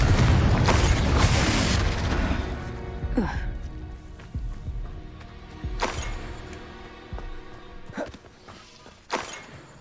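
A Confringo fire-blast spell cast in the video game Hogwarts Legacy erupts in a loud booming burst, followed by a few fainter thuds and impacts as the combat noise fades under game ambience.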